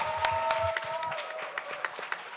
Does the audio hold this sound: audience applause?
yes